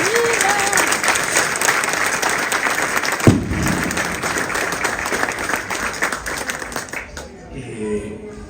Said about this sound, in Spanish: Un aplauso a nuestro santo.